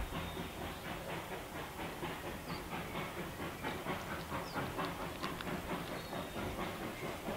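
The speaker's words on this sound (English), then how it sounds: "We have extended this shot to hear the train climb out of Lakeside past the camera and then continue on to Emerald." Puffing Billy steam locomotive 7A climbing out of Lakeside, rhythmic chuffing exhaust beats with steam hiss and faint wheel clatter, heard at a moderate distance and fairly quiet, with no talking.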